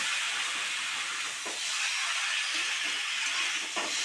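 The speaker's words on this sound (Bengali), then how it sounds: "ভেজে রাখা কুমড়ো আর ঝিঙে দিয়ে দিলাম দিয়ে ভালো করে মশলার সাথে কষিয়ে নেব" Fried pumpkin and ridge gourd sauté with spices in a pan, giving a continuous loud hissing sizzle with a couple of brief stirring scrapes.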